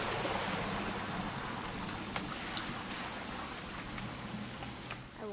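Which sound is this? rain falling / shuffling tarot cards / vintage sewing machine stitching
rain falling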